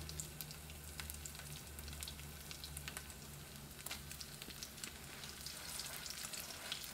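Southern-style salmon cakes fry in hot oil in a pan, giving a steady, close crackling sizzle that runs unbroken with no voices.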